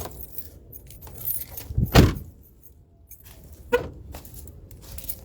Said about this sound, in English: Let me turn off my car and lock it so no one takes it